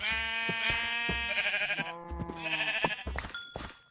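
Several Minecraft cows moo in Sky Factory, giving drawn-out, wavering lowing calls one after another. The calls overlap slightly, are fairly close and have no talk over them.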